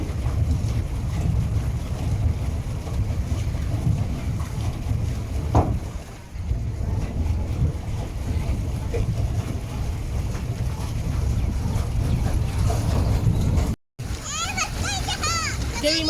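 A pedal boat churns across the water at Al Ain Fun City, with a steady low wash and gusting wind rumble on the microphone while children's voices chatter throughout.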